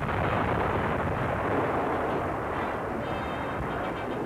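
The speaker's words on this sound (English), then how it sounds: "British fire, sinking French warships to keep the Nazis from getting them." Archival newsreel of British fire sinking French warships at a naval base: a dense, continuous rumble of gunfire and explosions, loud and roaring throughout.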